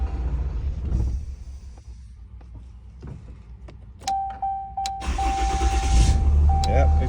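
A 2021 Ram 5500 truck that had been clicking without starting, despite new batteries and a new alternator, cranks and fires up midway, then runs loudly and steadily while a constant warning chime tone sounds and a voice is heard.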